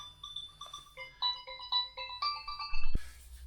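A mobile phone rings with an incoming call: a bright, repeating electronic ringtone melody of chiming notes, close and clear, cut off by a soft thump near the end.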